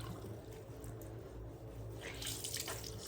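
Water is squeezed out of a wet fabric wrap over a sink, giving a running, splashing drip. It swells louder toward the end, with no voices.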